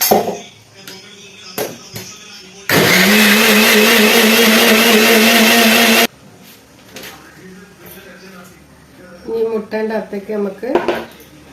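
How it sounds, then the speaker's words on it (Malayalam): A mixer grinder whirs loudly for about three seconds with a steady motor drone, blending sugar, framed by clattering utensils and lid clinks before and after. "അപ്പം നമുക്കിതൊന്ന് മിക്സിയിൽ അടിക്കാം"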